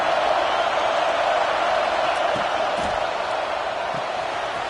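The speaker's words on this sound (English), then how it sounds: "This crowd, full throat, splitting the eardrums and letting them know it's going to be a long day." A packed football stadium crowd at a Georgia vs Texas game roars continuously, a loud dense wash of cheering voices holding steady throughout.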